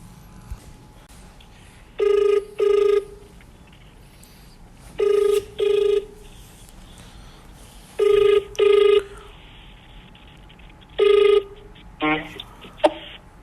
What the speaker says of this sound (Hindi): तो आप लोगों के सामने मैं अल्पिनो के ओनर को कॉल लगा रहा हूँ